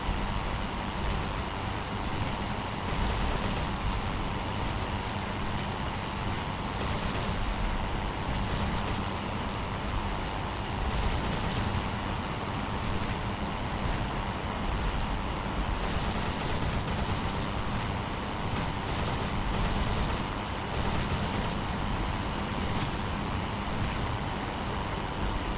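Aircraft machine guns in the Rise of Flight World War I flight game firing over a steady, loud engine drone, with several short bursts spread across the stretch.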